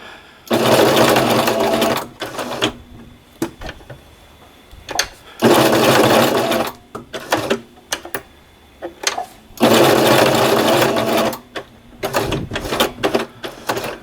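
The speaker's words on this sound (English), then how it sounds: "You just keep working your way a couple of stitches, stop, lift the presser foot, rotate it a little bit" Sewing machine stitching a patch onto loose jersey fabric, three loud close bursts of rapid whirring separated by pauses with short stop-start runs, no talking.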